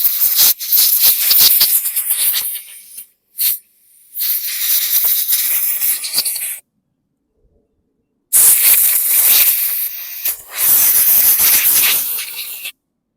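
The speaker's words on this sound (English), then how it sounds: "So I'll give this a general clean up with some compressed air only." Compressed air blasts debris off a 2016 Hyper Tough lawn mower in loud, close hissing bursts, several seconds long, with short pauses and a longer gap between blasts.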